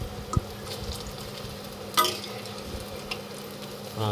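Cauliflower pakoras fry in hot oil and are turned over one by one, giving a steady close sizzle with a few sharp clicks and a brief louder crackle partway through.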